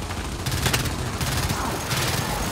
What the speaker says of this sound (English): This gun is hard to shoot.